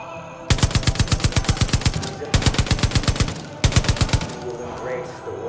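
Mounted machine gun firing in Far Cry 5, loud and close, in three rapid bursts of evenly spaced shots separated by short pauses, with faint game ambience in between.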